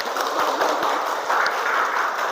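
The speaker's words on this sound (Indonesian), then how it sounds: "Iya, tepuk tangan semuanya." A classroom of students claps together in a dense, steady burst of hand claps that holds at an even level throughout, close and loud with no talking over it.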